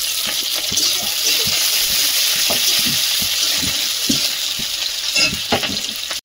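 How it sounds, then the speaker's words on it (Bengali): Egg bhujia sizzles loudly in hot oil in a wok with cumin seeds, chopped onion and chilli, a dense continuous frying hiss broken by scraping stirs, close and alone until it cuts off abruptly at the end. "কড়াইতে তেল দিয়ে দিচ্ছি, ডিম ভুজিয়াটা বানিয়ে নেব।"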